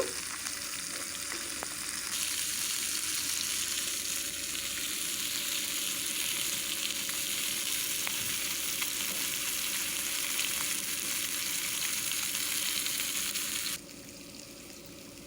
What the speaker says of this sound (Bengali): একটু বেশি সময় ধরে আমি কিন্তু লাল লাল করে ভাজা করে নেব